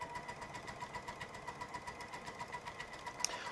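A Baby Lock Altair sewing machine runs a serpentine stitch with metallic cording, a quiet, steady, rapid mechanical whirr of even needle strokes heard alone without talk.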